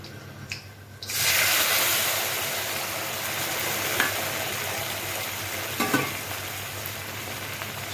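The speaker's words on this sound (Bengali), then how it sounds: "সর্ষে বাটা আর পোস্ত বাটা এটা এখন ফোড়নের মধ্যে দিয়ে দেব" Mustard and poppy seed paste hitting hot oil in a tempering with green chili, bursting into a loud, sustained frying sizzle after a second of quiet, with a couple of faint clinks.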